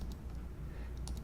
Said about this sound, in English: D on my keyboard, that's good.